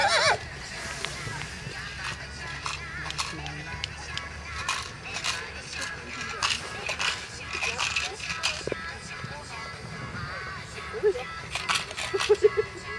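A Friesian horse is shown at a breeding show in Bondorf, its hooves clip-clopping steadily on the ground with an occasional whinny, while an announcer talks over it.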